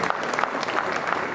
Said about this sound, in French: En tout cas, applaudissements pour Guillaume et Baptiste.